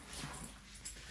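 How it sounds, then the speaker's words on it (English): A dog whimpers faintly and briefly indoors, a soft whine over a noisy background. "Goofy dogs."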